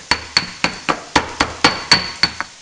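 Two garlic cloves are pounded for a spinach and potato soup, about nine evenly spaced, sharp knocks, close and distinct, with no voices.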